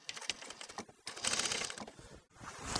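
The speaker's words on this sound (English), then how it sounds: "Let's start sewing this up." A sewing machine runs stitching upholstery fabric for a bench seat cushion, giving a faint, continuous close whirr with slight mechanical patter.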